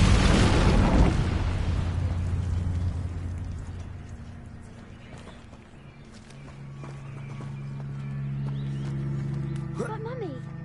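A fire spell cast in the video game Hogwarts Legacy bursts out loud and close at the start, then fades into a low rumbling tail under a steady game backdrop.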